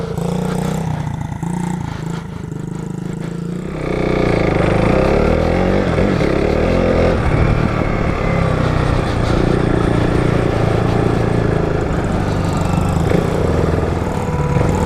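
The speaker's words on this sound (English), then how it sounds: "This little SSR SR70 has been a great bike for this little guy." An SSR SR70 fully automatic pit bike engine runs out in the Arizona desert, a close, buzzy small-engine drone that stays steady after a quieter start, with faint clatter and little variation.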